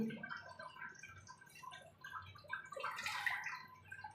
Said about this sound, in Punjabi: ਥੋੜਾ ਜਿਹਾ ਪਾਣੀ ਪਾ ਦਾਂਗੇ